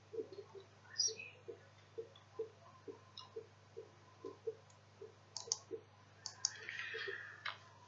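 A computer mouse clicks repeatedly in a quiet room, with short, crisp, evenly spaced clicks and a faint steady hum behind them.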